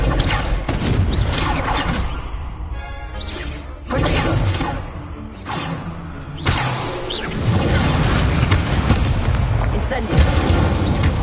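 Confringo fire-spell blasts in Hogwarts Legacy on PS5, a series of booming explosions with crackling impacts over continuous game ambience, loud and close, with voices casting spells between them.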